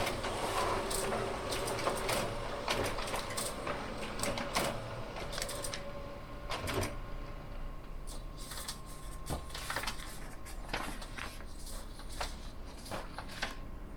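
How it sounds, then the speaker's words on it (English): A printer prints a document with a busy, irregular run of mechanical clicks, shuffles and feed clatter, fairly quiet and steady throughout, with no talk. "And it just starts printing out."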